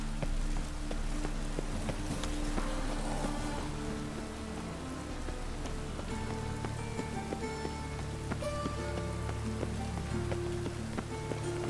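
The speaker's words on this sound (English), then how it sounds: "It only ever rains these days." Steady rain in The Witcher 3: Hearts of Stone falls continuously on surfaces throughout, layered over low game music and ambient tones, with no talking.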